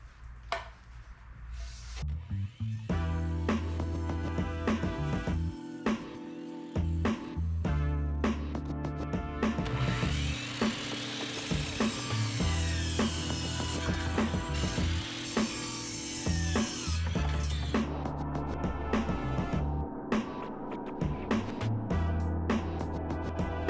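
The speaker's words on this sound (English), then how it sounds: "So you want to cut on this side of your line with your saw blade." A saw blade cuts wood for a square drop camper build, producing a loud, continuous grinding buzz with uneven bursts of rasping and ratcheting texture, no talking.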